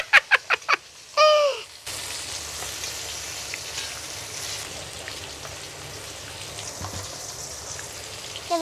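Eggplant fries in hot oil in a pan with a steady, soft sizzling crackle that runs for several seconds after a few brief voice sounds at the start, with occasional faint stirring clicks.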